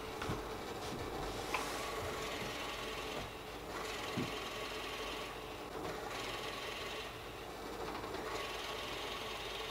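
Drill boring holes into beech and jarrah wood, a steady rasping, whirring drone with a few brief knocks and short dips, fairly close and continuous, with no one talking.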